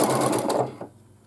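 A sewing machine runs quickly across pieced rows of a baby quilt made from 5-inch squares, a close, busy whir that stops abruptly partway through.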